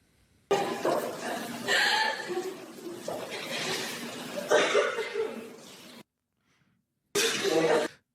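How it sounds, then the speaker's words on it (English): Several bursts of coughing and ragged, breathy gasps close to the mic, a long stretch of coughs followed by a pause and one more short fit. "You hear that nervous coughing"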